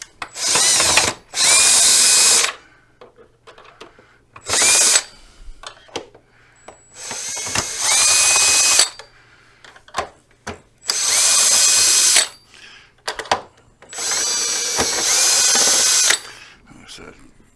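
A power drill fitted with a long bit undoes screws underneath the battery pack of a Jazzy ZT8 mobility scooter. It whirs loud and close in about six separate bursts of a second or two each, separated by short gaps filled with handling clatter.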